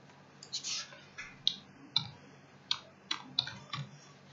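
Computer mouse clicks while operating inventory software on a PC, a series of about nine short, sharp clicks in an irregular rhythm, close and fairly crisp against a quiet background with no talking.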